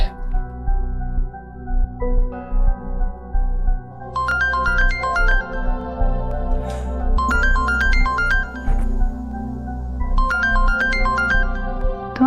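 A phone ringtone plays a repeating electronic melody in bursts, each phrase ringing for about two seconds over a low drama soundtrack, fairly loud and close.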